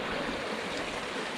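Morrow Creek flows past in a steady, full rushing wash of water, close and continuous, with no other sounds.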